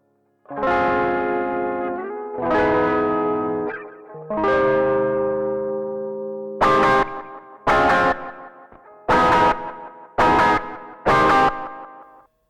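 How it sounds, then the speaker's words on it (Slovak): Electric guitar chords through a Tube Screamer overdrive into stereo delay, crunchy with long ringing tails and echoing repeats, then a run of short punchy stabs, loud and close without any talking. "z gitary do gateu, za tým nejaký tube screamer, z neho idem do delayu"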